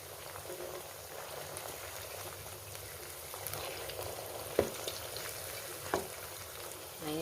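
Pempek fish cakes fry steadily in hot oil, a continuous close sizzle and crackle with a couple of sharp pops, no talking.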